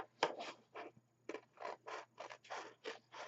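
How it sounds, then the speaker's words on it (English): Scissors trimming just inside a traced line on an altered autumn paintbrush craft project, a series of close, quiet rasping cuts in short bursts with brief pauses between them. "I will just keep on trimming around until I get to the point where I think that it looks the best."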